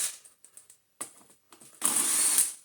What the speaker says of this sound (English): now undo all of the other screws under here